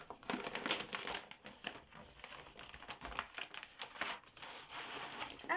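Plastic and paper packaging of a cross-stitch embroidery kit being opened and unwrapped, continuous close crinkling and rustling with irregular bursts, moderately quiet.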